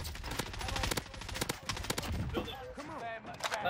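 FARA 83 assault rifle firing in Warzone, a rapid automatic burst of sharp shots in the first half, then scattered single reports mixed with game sound effects.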